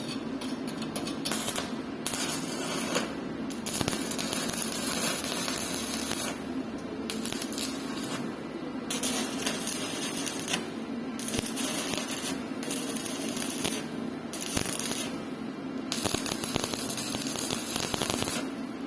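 Welding two steel plates joined on a welding positioner: a continuous crackling, sputtering arc with irregular pops and brief pauses between passes, loud and close, with no talking.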